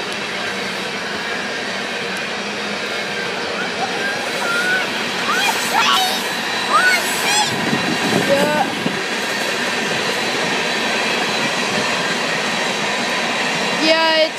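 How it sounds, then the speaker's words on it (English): A southbound CP mixed freight train rolls past in Airdrie, Alberta, with a steady, loud rumble of cars and wheels and occasional squeals, while people talk nearby. "mixed freight train"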